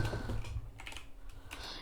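A short run of soft keystrokes on a computer keyboard while Python code is typed, a few close clicks over a low background rumble, without speech.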